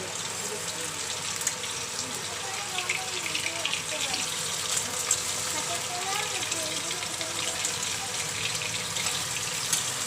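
Running tap water splashes over cut leafy greens and tangra fish being washed in a kitchen, a steady gushing stream with faint voices underneath.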